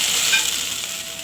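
Hot tempering poured into bisi bele bath gives a loud, steady sizzle that holds for the whole moment, close by, with faint stirring and no voices.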